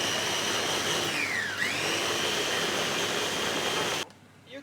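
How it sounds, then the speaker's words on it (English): A high-speed kitchen blender runs steadily and loudly while blending egusi with a little water for Nigerian soup, its motor pitch dipping briefly midway before cutting off abruptly near the end. "You can go for this speed blender."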